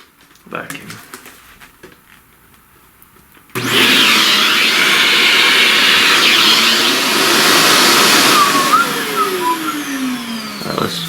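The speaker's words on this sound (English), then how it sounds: "vacuum." A vacuum cleaner switches on partway through and runs loud and steady, close by, with a faint quiet stretch and soft handling noises before it starts.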